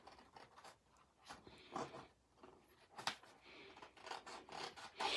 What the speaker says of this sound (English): With my snips, I just run them right along the envelope flap.